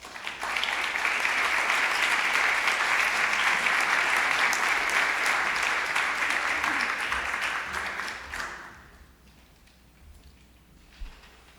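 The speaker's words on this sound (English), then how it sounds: "will you please join me and give her a round of applause?" A large audience at an evening event breaks into sustained applause, a thick, even roar of clapping that holds for about eight seconds before fading quickly into near silence.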